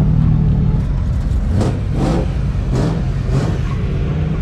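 Rallycross cars rev their engines before practice, a steady loud motor drone with several rising revving bursts close by, and no talking.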